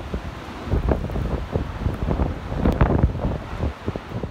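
Strong gusting wind on a rainy day buffets the microphone with rumbling, uneven bursts and steady rushing noise throughout.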